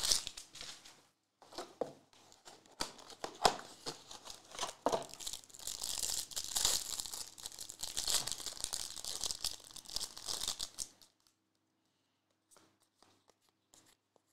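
Basketball trading card packs being cut open and handled: soft crinkling and tearing of wrappers with scattered taps and rustles, fairly quiet and close, fading to near silence at the end.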